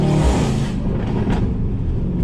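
A tuned Mercedes-AMG C63s with straight-piped, catless downpipes roars while being driven, a loud, close exhaust rumble that swells briefly and then eases into a steadier drone.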